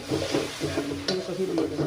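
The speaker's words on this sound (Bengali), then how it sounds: "গুঁড়ো মশলা দিয়ে এবার মশলাটা ভালো করে ভেজে নেব।" Ground spices frying and being stirred in oil in a pan for a fish and cauliflower curry, giving a steady close sizzle with scraping stirs throughout.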